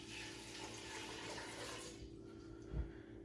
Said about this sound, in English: So we're going to put them in a big heavy pot. We are going to put in about 1/2 gallon of water